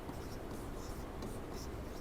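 Marker or chalk writing on a board in a lecture room, a brief, steady scratchy stroking that lasts about two seconds under a noisy background with no talking.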